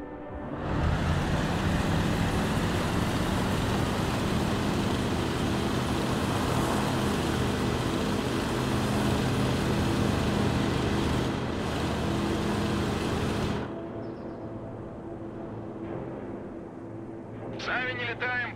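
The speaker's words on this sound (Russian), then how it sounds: "Заводи мотор." An air defense vehicle's engine in the Broken Arrow video game, a loud, steady rumbling drive that runs for most of the clip before dropping away near the end, where brief game chatter follows.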